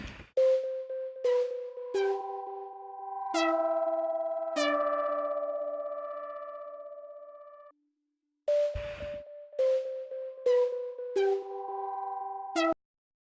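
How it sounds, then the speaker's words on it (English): Soft, pillowy sine-wave synth tones ring out in short stacked chords and sustained notes, each decaying smoothly, with a brief gap of silence before the pattern returns. "Starts off with this like pillowy sine wave thing"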